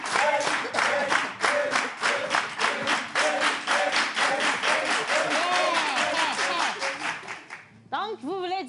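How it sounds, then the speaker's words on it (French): An audience claps for a performer at a live show, a dense, loud burst of steady applause that cuts off near the end, followed by a brief vocal sound. "mais viens, applaudissez Fanico."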